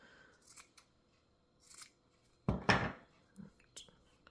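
A few crisp snips of scissors cutting macrame cord close by, with a louder cut in the middle and faint rustling between the cuts.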